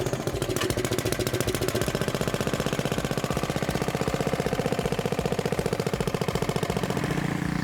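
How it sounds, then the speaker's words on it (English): A small hand tiller's engine runs steadily with a fast, even, chugging putter, loud and close, while working isolated spots of a farm field during fall cleanup. "I'll use this little hand tiller,"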